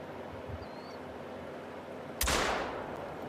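A single rifle shot rings out at an animal in a hunting video game, a sharp loud crack over quiet ambient outdoor background, followed by a decaying rumble.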